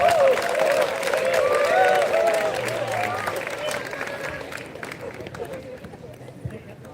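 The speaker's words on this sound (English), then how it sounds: "I request the students to please put your hands together and applaud the toppers." Students applaud the top-ranked graduates at a convocation, clapping and crowd noise with cheering voices and chatter over it, loud at first and gradually tapering off.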